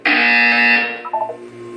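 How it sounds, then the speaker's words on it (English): A loud, harsh electronic buzzer from the video game Portal 2 blares in one sustained blast, then cuts off into a few short trailing tones. "When you hear the buzzer, look up at the ceiling."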